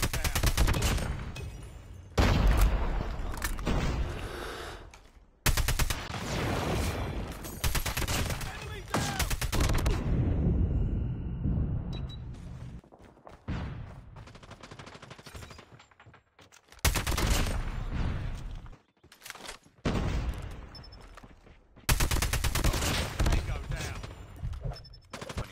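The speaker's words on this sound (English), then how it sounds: "we have the AK-47. With a high damage output, but a slow rate of fire" AK-47 assault rifle in the mobile shooter Call of Duty Mobile firing long, dense bursts of rapid gunfire that fill most of the stretch, broken by a few short pauses, with a voice talking over part of it.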